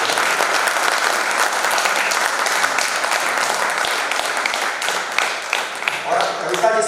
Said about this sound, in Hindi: अशोक चारण जी के सम्मान में अच्छी तालियां बजती हैं